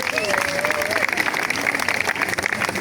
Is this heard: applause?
yes